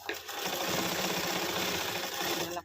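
A sewing machine runs steadily while stitching blouse dori pieces, a fast even whirring that holds for a couple of seconds and then stops, fairly quiet and with no talk.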